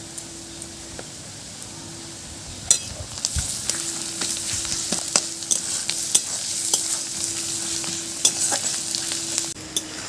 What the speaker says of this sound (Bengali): আদা পেঁয়াজ রসুন একটু ভালোভাবে ভেজে নেবো